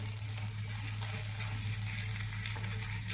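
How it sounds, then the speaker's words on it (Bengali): Carrot and capsicum fry in a pan over a medium flame, giving a continuous close sizzle with a low steady hum beneath it and no voices. "একসাথে মিশিয়ে ক্যাপসিকামটাও ভেজে নেব।"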